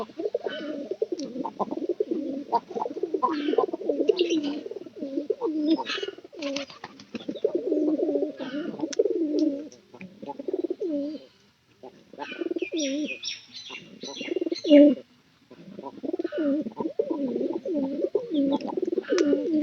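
Pigeons being fed coo nearby in soft, rolling, repeated phrases, with occasional chirps and a brief wing flutter. Short pauses break the steady cooing, and no one speaks.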